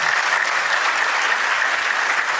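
A crowd claps steadily for a couple at an Ethiopian wedding, a dense even wash of applause that stays constant and unbroken throughout.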